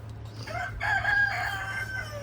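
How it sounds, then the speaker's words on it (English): A rooster crows once, a long drawn-out call close by, over a low steady hum. "we're just gonna look around at the chickens"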